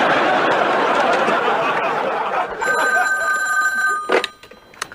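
An old-fashioned telephone bell rings in a domestic sitcom scene, a steady metallic trill starting partway through over a roomy background, then cutting off just before a brief voice.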